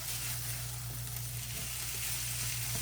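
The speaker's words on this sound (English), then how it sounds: "to brown the sausage" Sausage browning in a pan, a dense, continuous sizzle close up and loud, with a low steady hum underneath and no voices.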